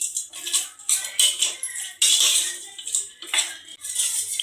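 A spoon scraping and clinking against a pot while mutton sambar with turmeric and salt is stirred, giving close, irregular metallic scrapes and knocks in uneven bursts with no talking.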